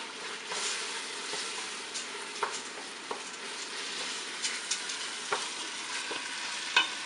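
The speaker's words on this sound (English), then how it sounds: "Before I add the water, just stir a bit." Dry scraping and light clinking of a utensil stirring grains in a pot, with small irregular knocks against the sides.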